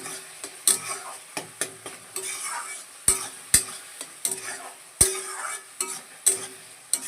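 Meat browning in a pan with turmeric and spices, stirred in repeated scrapes and clanks of a spoon against the vessel over a steady close sizzle; no talking.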